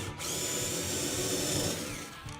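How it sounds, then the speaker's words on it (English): A power drill bores a pilot hole into a wooden antler for a barnwood deer head, whining steadily and loudly for about two seconds before spinning down, with no talking. "you're going to need to drill a pilot hole in the antler"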